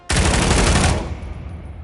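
A P90 submachine gun in a VR shooter fires one loud, continuous burst of rapid automatic shots lasting about a second, then a short decaying echo.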